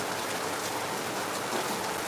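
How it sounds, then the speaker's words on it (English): Rain pours steadily in Lagos, a dense, even hiss of drops striking surfaces close by, with no pauses and no voices. "it's raining right now as we speak, and you can hear the sound of the rain"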